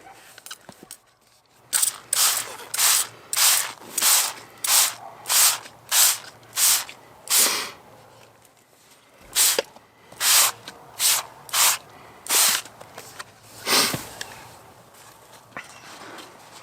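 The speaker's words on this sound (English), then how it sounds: "ChatGPT said to spray the inside, so I'm spraying the inside first" Waterproofing spray hisses from an aerosol can into the inside of a military surplus stuff sack, coming in a steady series of about sixteen short bursts with brief pauses between them, close and fairly loud.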